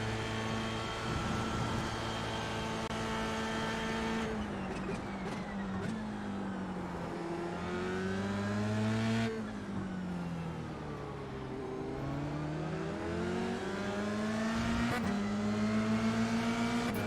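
F3 race cars in iRacing at Silverstone howl through the gears, engine pitch rising and falling with shifts and corners, a close, continuous onboard roar with other cars nearby.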